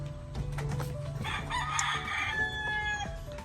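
A rooster crowing on a farm, a long drawn-out crow with clear ringing tones, joined by softer clucks and calls from other nearby fowl, fairly close and with no talking over it.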